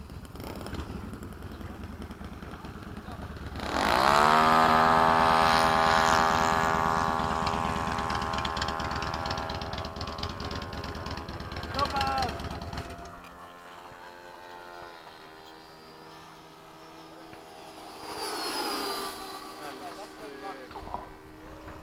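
FMS 80mm Hawk RC jets roar loudly overhead in formation, a rising electric ducted-fan whine that swells, holds and fades as they pass and come in to land, with people talking throughout.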